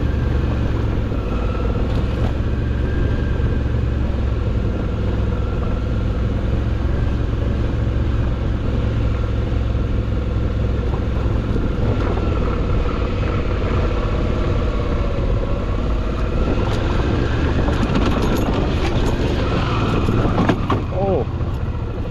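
A 2009 Suzuki adventure motorcycle heading downhill on gravel, its engine droning steadily and loudly throughout, with crunching tires and wind rumble under it and a few sharper rattles near the end.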